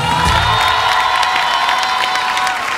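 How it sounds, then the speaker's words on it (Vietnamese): A studio audience at a Vietnamese TV variety show claps and cheers loudly and continuously, a dense wash of applause with whoops that holds steady throughout. "Nên chúng ta vỗ tay cho Harry Won hát đầu tiên."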